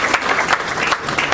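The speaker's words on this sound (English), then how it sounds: "Let's clap for this." Short burst of audience clapping at a book lunch, a dense patter of many hands close by that stays steady for a moment without voices over it.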